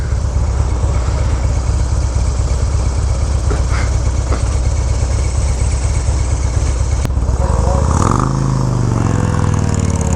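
Gilera Runner 180 scooter at speed on a road, near 80 mph, its engine a steady loud drone under heavy wind rush for the whole stretch, with a brief pitch change near the end as it drops back.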